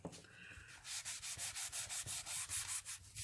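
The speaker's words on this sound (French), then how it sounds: "je vais gommer de suite hein, pour bien faire les démarcations" Eraser rubbing back and forth over dry pastel on paper, a quick series of scratchy, rhythmic strokes close up, steady and fairly quiet, with no voices.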